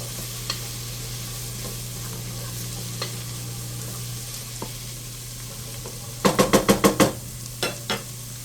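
Minced garlic sizzles softly in a pan for chili under a steady hum, then a quick series of six or seven loud, rhythmic scraping knocks is followed by two more.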